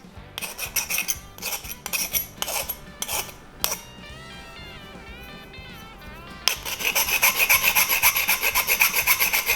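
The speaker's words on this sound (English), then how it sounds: "Get the burrs off, flatten down the ends." A hand file rasps burrs off the ends of soft copper irrigation pipe in steady repeated strokes, close and loud, with a ringing metallic passage partway through before the rough filing strokes resume more intensely.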